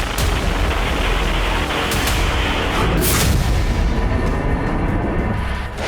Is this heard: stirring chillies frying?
no